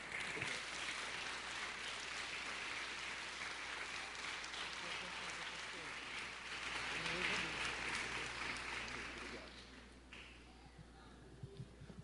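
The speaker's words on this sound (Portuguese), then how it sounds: "Vamos recebê-lo dando um aplauso ao Senhor Jesus?" A church congregation claps together during a service, a broad wash of applause that holds steady for most of the stretch before tapering to scattered claps near the end.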